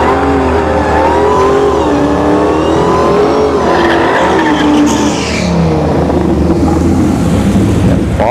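Loud, continuous car engine roar from a Dodge Hellcat Charger and a Ford Mustang Boss 302 at a drag strip test-and-tune session, with shifting engine pitch and revving throughout and no talking.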